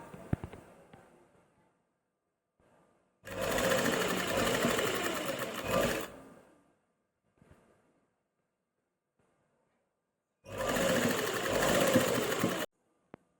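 Sewing machine stitching lace onto a shirt sleeve, running in two loud, steady bursts of about three and two seconds separated by a quiet pause, with faint handling noise between.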